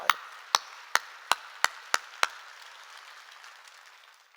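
At a Korean church service, the congregation claps in unison: seven sharp, evenly spaced claps ring out in a reverberant hall, then fade into quiet room tone.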